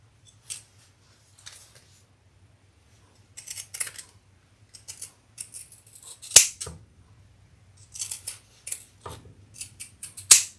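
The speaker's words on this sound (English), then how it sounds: "I am going to use my pinking shears around the corners." Pinking shears snip around the corners of a fabric crossbody bag, crisp close-up crunching cuts in short irregular clusters separated by quiet gaps, with a few sharper, louder snips.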